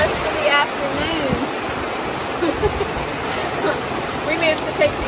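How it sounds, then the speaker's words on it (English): Heavy rain pours steadily onto an RV at a campsite in Florida's Myakka State Park, a dense, continuous roaring wash with no break. "Oh, wow. It is pouring."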